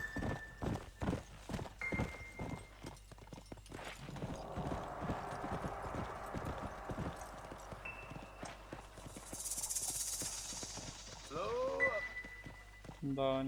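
Horse hooves clip-clop in Red Dead Redemption as the horse walks and balks at heading downhill, with a whinny near the end and someone talking over the steady hoofbeats.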